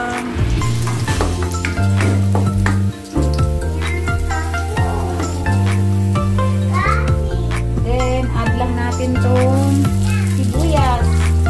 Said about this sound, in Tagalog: Ayan, nagluluto lang tayo. Ayan yung bawang.